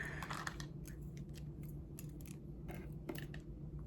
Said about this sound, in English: so I'm gonna take my scissors,